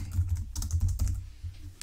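Quick bursts of typing on a computer keyboard, soft close key clicks in an irregular patter with no talk.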